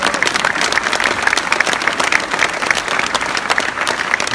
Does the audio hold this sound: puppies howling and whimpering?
no